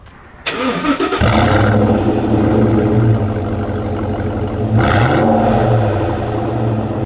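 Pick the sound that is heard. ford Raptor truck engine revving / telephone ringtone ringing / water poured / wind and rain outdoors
ford Raptor truck engine revving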